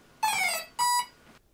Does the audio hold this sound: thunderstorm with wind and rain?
no